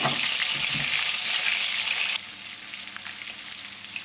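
Chopped chicken cutlets sizzle loudly in a frying pan, a dense crackling hiss that suddenly drops to a quieter, steady fry about halfway through, with no voices.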